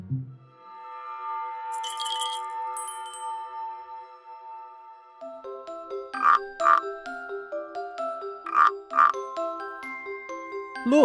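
A cartoon frog in a children's garden show croaks in two quick pairs of bright, ribbity calls over a gentle chiming musical backdrop, fairly close and clear.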